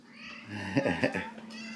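A cat on a farm meows twice in close succession, a clear nearby wavering call over a low steady hum, with no talking.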